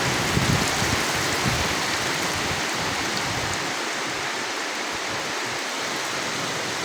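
Heavy rain pours steadily over a farm field hut, a dense continuous hiss with low rumbling wind, loud and close throughout with no voices.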